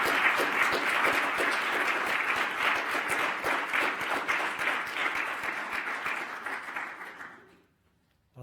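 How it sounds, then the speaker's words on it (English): An indoor audience at an evening event claps in a sustained round of applause, dense and loud for about seven seconds before tapering off into silence. "Perhaps we could give everybody a round of applause."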